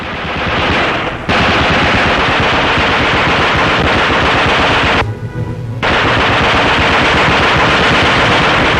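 A German machine gun fires long, loud, continuous bursts during the wartime battle of Orel, with one brief pause before the chattering fire resumes at full intensity.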